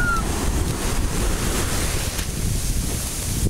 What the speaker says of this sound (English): Oh, that is a huge wave.